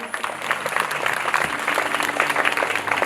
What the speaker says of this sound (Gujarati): આપણે આ ફળને જોરદાર તાળીઓથી વધાવશું